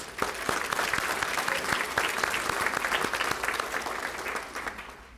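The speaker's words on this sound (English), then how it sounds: "So give yourselves a round of applause, parents" Parents at the Arlington ISD STAR Awards ceremony give a steady, full round of applause, many hands clapping evenly from start to finish without speech.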